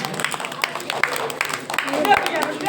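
Audience applause welcoming a guest into a Hindu katha gathering pandal, steady dense clapping that runs through the whole moment with a voice speaking over it.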